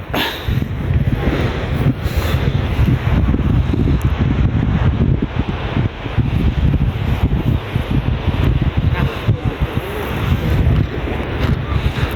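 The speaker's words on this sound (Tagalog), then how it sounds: "Sarap ng hangin dito. Malamig-lamig." Loud, constant wind roars across the microphone by the sea in Northern Ireland, with a broad rushing wash of surf underneath and no voices.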